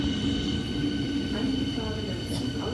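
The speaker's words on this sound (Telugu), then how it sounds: "ఇంకా మనం ఎక్కాల్సిన ట్రైన్ అయితే వచ్చేసింది" A train rumbles steadily close by, with a faint metallic squeal of wheels and a low continuous hum; brief voices pass underneath.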